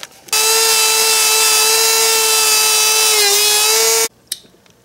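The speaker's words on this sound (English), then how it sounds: "So you want to take your sanding tool and sand down the ground as well" A high-pitched Dremel sanding tool buzzes continuously for about four seconds on a DeLorean engine bay ground point, wavering briefly near the end, then cuts off abruptly, leaving a few faint clicks.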